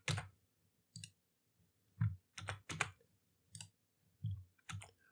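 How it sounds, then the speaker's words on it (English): Computer mouse clicks come in sparse, crisp single and double taps with quiet gaps between them, close up, while someone works through a menu in Unity. "I'm clicking on the tools category"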